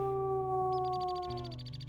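A wolf howls in the video game Tracker's Tale, one long sustained tonal cry holding steady before dropping into a lower pitch, fairly loud with no speech.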